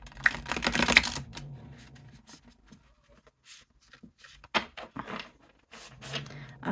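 Rapid riffling and flicking of linen-finish tarot cards, a dense burst at first followed by scattered soft taps and slides, close by.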